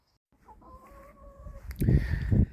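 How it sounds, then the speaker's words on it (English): Molting laying hens cluck and murmur close by, a few short low calls rising toward the end, with a faint tonal squeak earlier. "they are extremely healthy chickens."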